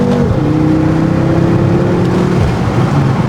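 BMW M car accelerating hard, a loud close engine note climbing in pitch through a gear, then dropping back as the revs ease.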